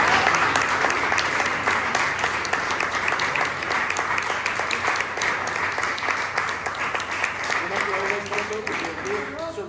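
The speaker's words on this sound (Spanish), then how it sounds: "un super aplauso" Audience applause at a talk on the state of Cantabrian salmon populations, a dense, steady clapping from a crowd that fills the whole stretch with some voices mixed in.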